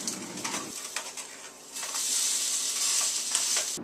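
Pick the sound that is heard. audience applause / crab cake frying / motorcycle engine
crab cake frying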